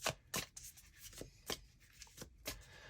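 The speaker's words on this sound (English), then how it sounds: "The universe got me shuffling big time for this one" Tarot cards being shuffled, with a series of quick papery riffles and soft rubbing bursts repeating every half second or so, close and fairly quiet, no talking.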